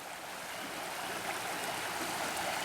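Creek water flowing steadily over its bed beside the bank, a dense, continuous rushing and babbling close to the microphone with no voices.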